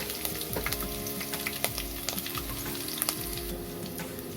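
Green chillies fry in oil with a steady, close sizzle and many small crackles and pops throughout.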